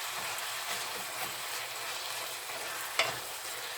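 Enchilada sauce warming in a pan on the stove. A soft, even sizzle with light stirring runs throughout, and a single small clack sounds near the end.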